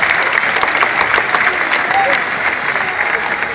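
Crowd applause at a recortadores bull-leaping event in Beaucaire, a dense continuous wash of clapping from a large outdoor audience, loud and sustained with a voice faintly over it.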